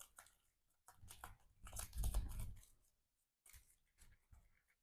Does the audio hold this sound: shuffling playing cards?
yes